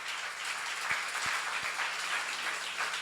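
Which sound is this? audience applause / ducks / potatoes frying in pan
audience applause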